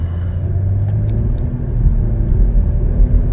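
A 2024 Chevrolet Blazer RS accelerates on a test drive, a loud low cabin rumble of engine and road noise that swells steadily over a few seconds.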